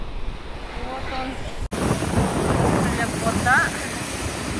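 Rough sea surf churns and rushes near the shore off Ko Lan island by Pattaya, with heavy wind buffeting the microphone and a brief dropout partway through.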